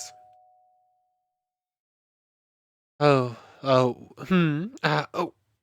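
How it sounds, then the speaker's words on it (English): In the video game Ezrebeth, a doorbell gives a single clear ding that rings out and fades. After a silent pause, a voice follows in a few loud bursts. "Oh, right, there's the doorbell"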